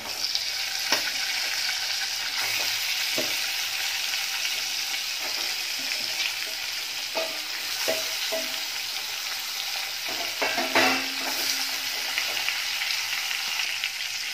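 A steady, hissing sizzle of fish frying in hot oil continues throughout, broken by occasional clinks and scrapes of utensils.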